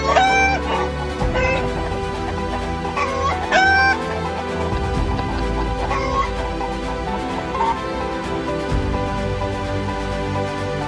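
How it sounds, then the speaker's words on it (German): Chickens let out into a new garden enclosure cluck loudly and close by, with a rooster crowing in short bursts early on, followed by continuous busy clucking and squawks. "Jetzt lassen wir die Hühner raus."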